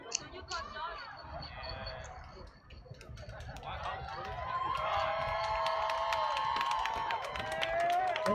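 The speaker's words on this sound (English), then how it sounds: "And it's peaceful, it's cheering" Protest crowd near Santa Monica Pier cheering, with a broad roar of voices that swells louder in the second half, while scattered shouts and indistinct talk sit on top.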